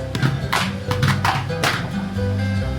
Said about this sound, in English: Last, we have our hollowed out gourd that we call the ipu,